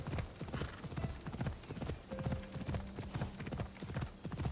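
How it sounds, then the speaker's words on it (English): A horse gallops in Assassin's Creed Odyssey, its hooves striking in a rapid, continuous clip-clop rhythm at moderate volume, with a brief tonal whinny in the middle. "I think it'd be faster to take my horse."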